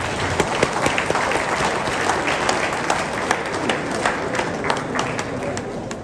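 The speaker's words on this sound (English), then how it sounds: "Clap for yourself." An audience at a commemorative gathering bursts into sustained, dense applause, many hands clapping steadily throughout with faint crowd murmur beneath.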